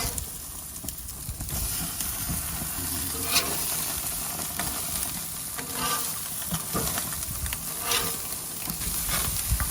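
Steaks sizzling on a grill as they are flipped, a steady loud hiss and crackle with scattered scraping and tapping of the tongs, close up, with no talking.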